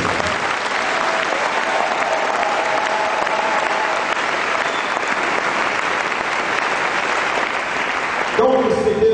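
A church congregation breaks into sustained, dense applause that holds steady for several seconds and then fades as the room settles.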